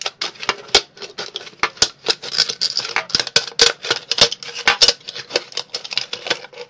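Scissors snip paper repeatedly in quick, irregular bursts, each cut a sharp crisp click close to the listener, with short pauses between runs of cuts.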